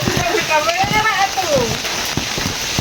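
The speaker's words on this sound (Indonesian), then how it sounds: "Hujan ngarincik," Steady rain patters on surfaces in a remote, misty village near rice paddies, a continuous close hiss throughout with a voice speaking over it.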